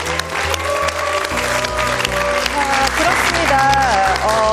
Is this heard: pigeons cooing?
no